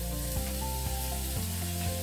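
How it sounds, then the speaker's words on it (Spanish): Chopped onion and garlic sizzle steadily in a pot for a Colombian coastal sancocho, a continuous loud frying hiss with a low hum underneath and no voices. "colocaremos la cebolla picada y el ajo."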